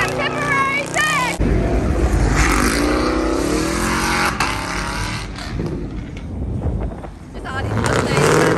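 Mustangs at a car meet rev their engines, a loud, sustained roar with surging pitch heard up close, while people talk and shout nearby over the noise.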